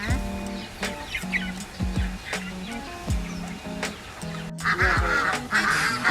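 Ducks on a farm in Bang Saen, Chonburi, Thailand, quack repeatedly in short nasal bursts close by as they are fed carrots, with a few other birds calling in the background.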